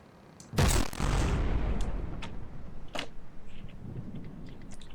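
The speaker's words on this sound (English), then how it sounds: "If we fire a volley, we'll see a pretty impressive show." A warship's cannon volley in a video game: one heavy boom bursts out early and rumbles away, then a few sharper distant reports follow over a decaying low rumble, with no talking.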